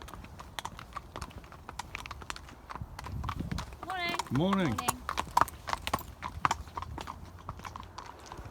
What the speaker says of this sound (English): I think there's a couple of horses coming up the path as well.